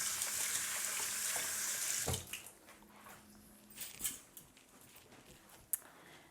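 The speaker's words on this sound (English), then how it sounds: "And I have to wash the salt out of my fingers." Tap water runs steadily from a faucet into a sink as salt is rinsed off fingers, a continuous hiss for about two seconds before it shuts off, leaving quiet kitchen clatter and small knocks.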